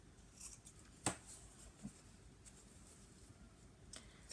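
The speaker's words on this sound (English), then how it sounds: "I am going to trim that overhang off and clip the other corner" Scissors trim fabric overhang and clip the corners of a small sewn wallet, giving a single crisp snip near the mic with a couple of fainter cuts around it, against quiet room background.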